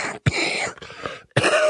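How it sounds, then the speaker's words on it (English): Two rough, throaty coughs from a congested man, close to the microphone, separated by a raspy, strained stretch of throat noise. "I'm going to cough."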